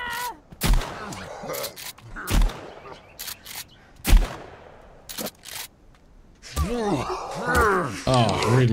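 Sharp gunshots from the video game Sons of the Forest, fired one at a time at uneven gaps, loud and close, with a voice talking and groaning between and over the later shots.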